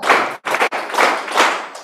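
A room of parents and teachers at a school gathering claps out short counted patterns, with quick groups of loud, close hand claps split by brief pauses.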